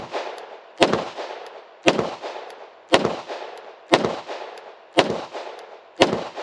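Six sharp, loud gunshots from a Beretta APX A1 Tactical pistol, fired at an even pace about one second apart, each with a short ringing decay and no talk.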